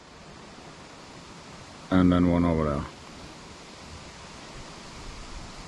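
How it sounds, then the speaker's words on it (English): Stream of water flowing down into a pond, a steady broadband rush heard throughout, with someone speaking briefly over it. "So there's one stream flowing down there,"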